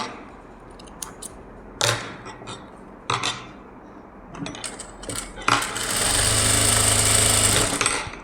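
A sewing machine runs a double stitch on a synthetic lining blouse: scattered clicks and short bursts of handling give way to a steady, close mechanical whirr of stitching for the last few seconds.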